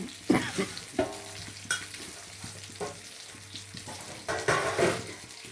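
Fish pieces fry in hot oil in a pan, giving a steady close sizzle broken by a few louder spatters and scrapes as the pieces are turned or lifted, with no voices.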